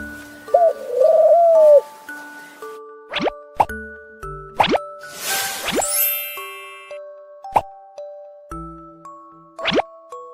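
Soft pigeon coos mixed with bright plopping and ringing electronic tones, spaced out at an uneven, bouncy pace.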